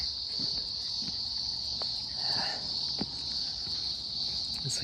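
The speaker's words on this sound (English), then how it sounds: "Those cicadas this morning," Cicadas keep up a steady, high, shrill drone on a warm, breezy morning, constant and fairly loud, with faint scattered knocks and rustles beneath it.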